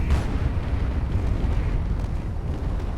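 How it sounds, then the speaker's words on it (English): Coilgun turrets firing in Space Engineers, heavy booming blasts and deep rumbling impacts rolling continuously, loud and dense with no voices. "Coilguns are firing off."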